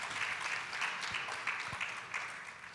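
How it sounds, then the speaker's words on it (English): Steady audience applause for a World Bank speaker at an International Women's Day dialogue event, a continuous wash of many hands clapping, moderately distant and fairly quiet throughout. "Please give her a round of applause."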